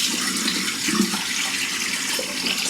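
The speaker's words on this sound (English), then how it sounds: "Water." Water runs steadily from a bathroom tap during a shave, a constant broadband rush at moderate level with no talking.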